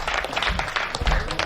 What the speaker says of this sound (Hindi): अगर पढ़वाना चाहते हो तो तालियां बजाओ ना